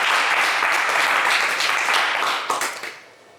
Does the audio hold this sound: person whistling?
no